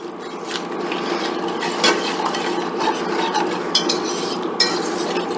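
A utensil scraping browned fond off the bottom of a pan while cooking chicken etouffee, a steady close scratching and stirring with occasional sharper clinks against the metal.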